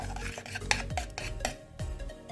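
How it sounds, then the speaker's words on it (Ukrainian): A spoon stirring gelatin into fresh strawberries in a bowl, with close, soft wet scraping and occasional light clinks against the dish, no voices. "Желатин переливаємо до ягідок. І добре перемішуємо"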